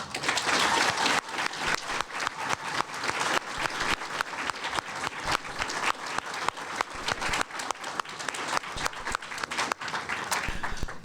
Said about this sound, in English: give a quick round of applause for all our award winners today